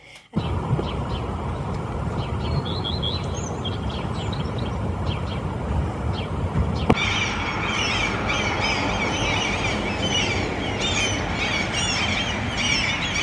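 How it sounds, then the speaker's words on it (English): Seagulls call and squeal repeatedly at a distance by the sea, their cries scattered over a constant loud rumbling background noise. "So one of the things I've seen, or rather heard a lot of, is seagulls."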